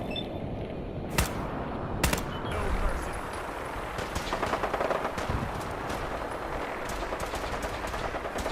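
Gunfire from the video game Fallout 4, with a few sharp loud shots early on followed by a dense rattle of distant-sounding automatic fire and noisy combat ambience.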